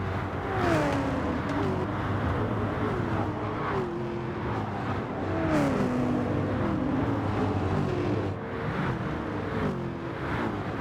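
Race car engines from V8 Supercars, including a Camaro and a Shelby, roar around a wet Spa circuit in the Gran Turismo 7 video game, with steady high revving and repeated rising and falling pitch sweeps through gear changes.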